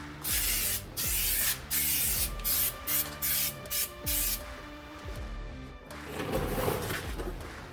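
A spray can applies a coat of bed liner on a TDI Volkswagen-swapped Jeep LJ, loud close hissing sprays in a rapid run of short bursts followed by a longer continuous spray.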